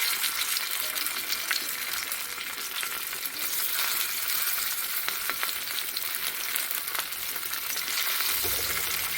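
Masala-coated fish frying in oil on a flat dosa tawa, a steady dense crackling sizzle that holds loud and close throughout with no talking.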